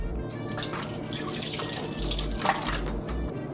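Whole milk pours into a bowl of whisked eggs for bread pudding, a close, steady liquid trickle with small splashy drips throughout the short pour, without speech.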